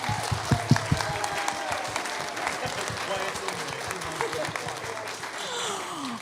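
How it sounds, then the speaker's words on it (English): A church congregation at a Sunday service applauds the children, a moderate ripple of clapping mixed with voices and murmurs, steady for about six seconds before thinning out. "So can we get a round of applause for the kids?"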